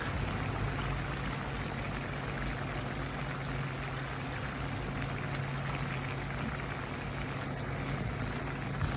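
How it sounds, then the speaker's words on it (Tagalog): Vinegar is poured in a steady, continuous stream into a pot of lechon paksiw, a close, even wash of liquid that holds at one level throughout. "maglalagay po tayo dito ng ating suka"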